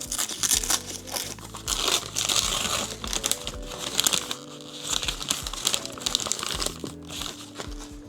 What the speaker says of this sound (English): Let's just unwrap it.